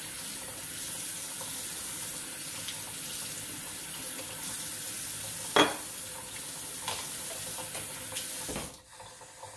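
Tap water runs steadily from a faucet while a Seydel harmonica is cleaned, a constant rushing hiss with a few brief knocks before the flow cuts off near the end.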